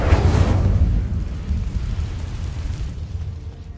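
Fire spell cast in a Harry Potter video game: a loud, close whooshing burst that erupts at once with a deep rumble, then fades into a lingering roar over a few seconds.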